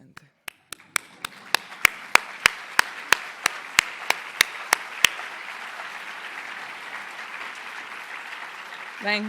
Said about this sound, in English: You can also stop holding the applause.